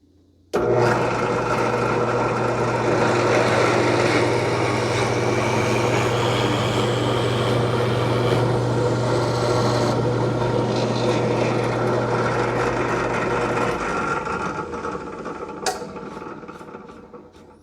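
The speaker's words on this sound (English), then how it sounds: "And then I'm going to make that cut drill all the way through." A power drill bores straight through foam to cut a 1.5-inch hole at a 30-degree angle, running loud and steady for about thirteen seconds with a low motor hum before winding down.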